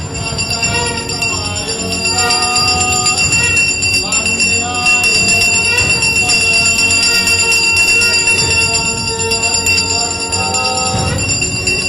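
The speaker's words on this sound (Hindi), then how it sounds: "अमिताभ बच्चन के पोस्टर के सामने शंख बजाकर उनकी आरती उतारी जा रही है" A conch blown in a long, steady, droning tone over clanging bells and crowd noise.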